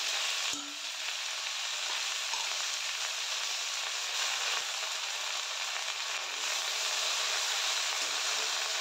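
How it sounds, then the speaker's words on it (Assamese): Khutura greens fry in a hot pan for an Assamese fish curry, giving a steady, dense, close sizzle that hisses evenly for the whole stretch with only a brief soft clink early on. "এতিয়া ইয়াতে খুতুৰা শাকখিনি দি দিছোঁ। সেইখিনি ভালদৰে ভাজি ল'ম এতিয়া।"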